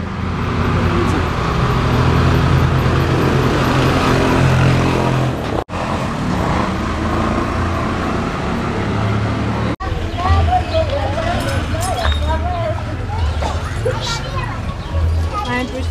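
Busy street traffic in Guatemala rumbles steadily with passing cars and larger vehicles close by, a dense continuous roar that persists under people talking.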